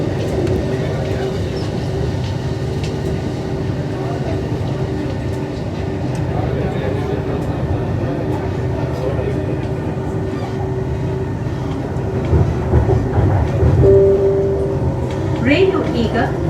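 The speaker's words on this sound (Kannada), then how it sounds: "ಇವಾಗ ನಾವು ಮೆಟ್ರೋ ಚೇಂಜ್ ಮಾಡಿಕೊಂಡು ಗ್ರೀನ್ ಲೈನಲ್ಲಿ ಮೆಜೆಸ್ಟಿಕ್ ಕಡೆಗೆ ಹೋಗ್ತಾ ಇದ್ದೇವೆ" A Namma Metro Green Line train in Bangalore rumbles steadily through a ride, with a constant low hum and rattle, muffled voices in the cabin, and a brief tonal chime near the end.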